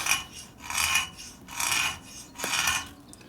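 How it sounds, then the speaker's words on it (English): A fine file rasping across the gap of a motorcycle piston ring for a Harley-Davidson Sportster XL 1200 engine, four even back-and-forth strokes, close and clear. "Okay, so I file on this side, not this side, so keep filing on the same side."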